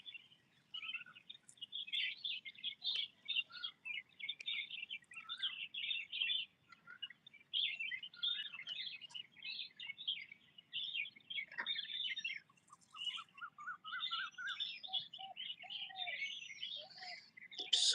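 Wild birds chirp and tweet outdoors in quick, busy bursts of high calls that run almost continuously, several voices overlapping at moderate distance against a quiet background.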